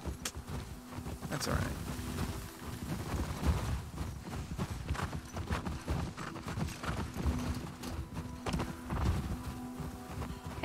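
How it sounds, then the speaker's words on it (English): Horse hooves clip-clop steadily at close range in The Last of Us Part 2, a continuous rhythmic plodding mixed with ambient game sound while people talk over it. "Man, this horse is really letting loose."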